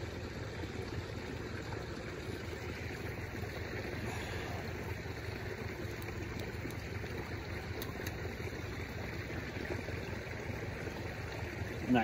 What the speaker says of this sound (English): that creek's probably real loud